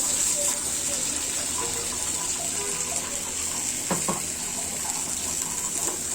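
Water pours steadily into a blender jar holding blended dried chillies and pointed gourd peel, a continuous close gushing sound with a few small knocks.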